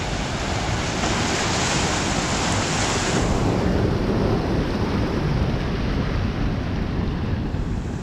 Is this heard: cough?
no